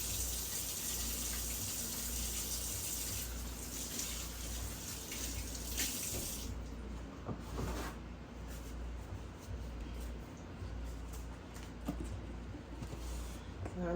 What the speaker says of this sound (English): Give my hands a quick wash again.